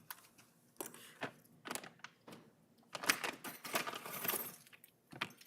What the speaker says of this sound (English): Government doesn't show you these keys, ladies and gentlemen.